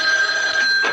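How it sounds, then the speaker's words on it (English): A telephone bell rings steadily and loudly in a radio drama, a bright sustained ring up close with nothing else over it. "When the phone rings."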